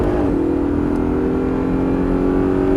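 A car on a race circuit accelerates at full throttle in fourth gear, its engine note climbing steadily and loudly in a continuous rising drone with no speech.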